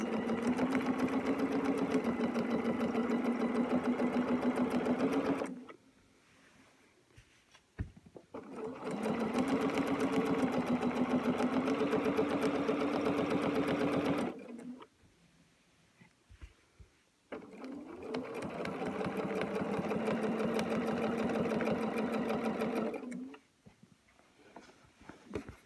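Sewing machine stitching a quilt, running in three long steady bursts of about five to eight seconds each, separated by short pauses; a voice talks over the motor.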